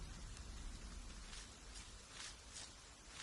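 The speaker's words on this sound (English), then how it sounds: "It must be hard to catch my scent in this rain." Steady rain falls in a medieval video game scene, a soft even hiss with faint drop patter throughout, no voices.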